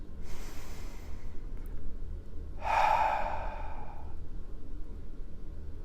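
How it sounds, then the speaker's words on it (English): One slow, deep breath in a quiet space, with a soft inhale followed by a long, breathy exhale lasting over a second, close and clear with no talking. "I breathe for all that surrounds us"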